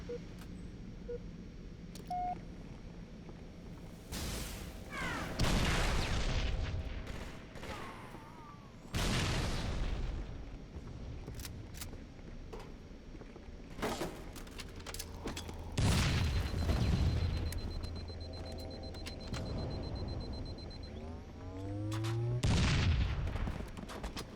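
Halo video game combat rings out with several loud grenade booms and bursts of gunfire, spaced across a long stretch with quieter game sounds between, close and punchy, with no talk.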